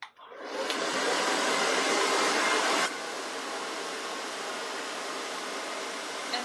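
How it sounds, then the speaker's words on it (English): A blow dryer smooths a hair topper with a round brush, giving a steady loud whooshing roar close by that drops to a lower setting partway through and keeps blowing alone. "either use the heat of your blow dryer and a round brush"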